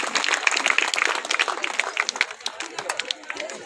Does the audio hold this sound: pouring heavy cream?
no